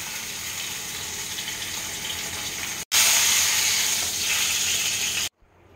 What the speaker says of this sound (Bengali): মাছগুলো আমি ভেজে ভেজে একটা একটা করে তুলে রেখে দেব।